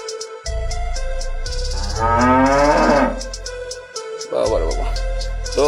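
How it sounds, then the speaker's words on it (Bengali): Cattle moo loudly and close by at a cattle market beneath the Digrichar bridge on the way from Narayanganj to Munshiganj, with a long bellowing call in the middle over a steady low engine-like drone and brief quieter gaps. "ডিগ্রিচর ব্রিজের নিচে অনেক গরু উঠছে"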